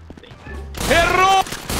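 Shotgun blasts in a GTA 5 roleplay match set on a de_dust style map, a sharp burst of gunfire starting partway through, loud and close with ringing game effects, over faint background sounds.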